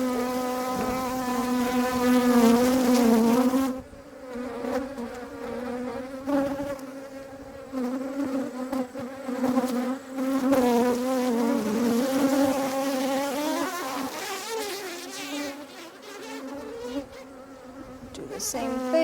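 A swarm of honeybees hums loudly and close up as it moves into a hive, a dense rising and falling buzz that carries on steadily with no one talking.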